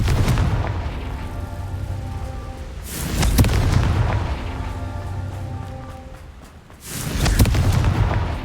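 Confringo spell blasts in Hogwarts Legacy combat: loud booming explosions at roughly three and seven seconds, each with a sharp attack and rumbling tail, over a steady game soundscape with low background tones.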